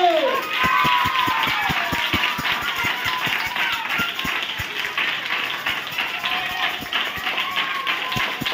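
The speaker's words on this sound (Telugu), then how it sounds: "గట్టిగా చప్పట్లు" A group of Sunday school children claps loudly and steadily in a fast, even rhythm during a worship celebration, with singing voices and crowd noise carrying over the beat.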